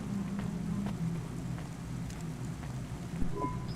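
Steady hiss of rain falling over a city street in the CloudPunk video game, a constant wash of drops with a faint low rumble beneath and no voices.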